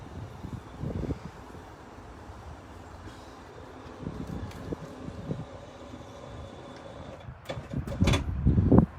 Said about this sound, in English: You'll note the bifold doors on the internal there opening up on their own, and they're all gas strut assisted.